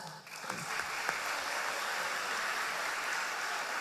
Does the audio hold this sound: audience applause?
yes